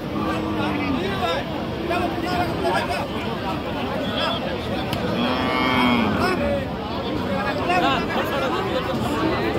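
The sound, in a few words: cow at a cattle market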